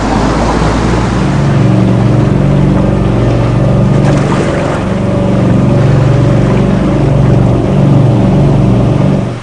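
A motorboat engine drones loudly and steadily throughout, a deep continuous rumble with faint water wash beneath it.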